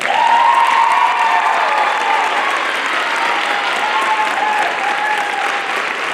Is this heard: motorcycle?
no